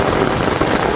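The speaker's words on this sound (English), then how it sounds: "There is hail." Hail falls hard and steady outdoors, a dense, loud clatter and hiss of pellets hitting surfaces close by, with no voices heard.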